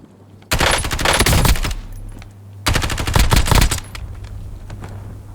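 Automatic gunfire bursts in the video game Warzone, two loud rapid volleys about a second long each, separated by a short pause, over a low steady background hum.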